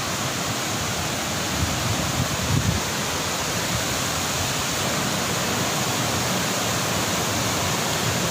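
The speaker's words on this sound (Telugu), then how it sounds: "వాటర్ చూడండి ఎంత ఫోర్స్గా వస్తున్నాయి ఎంత భయంకరంగా ఉన్నాయండి" A forceful mountain waterfall in Nellore, swollen by heavy rains, pours in a steady, loud broadband roar that stays constant throughout, with a brief surge of low rumble partway through and no voices.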